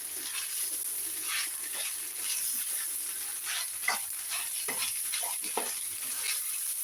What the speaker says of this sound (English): we just keep stirring to prevent it from burning